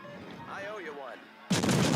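In a naval video game, a warship's artillery fires: after a brief spoken voice and a moment of quiet, one sudden, loud, booming salvo bursts in and keeps roaring.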